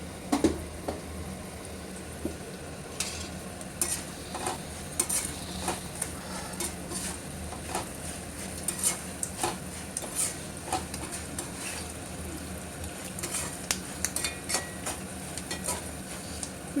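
Tamarind extract poured into a frying pan and stirred while making tamarind pulihora, with a soft background sizzle, close spoon scraping and clinks against the pan, and no talking.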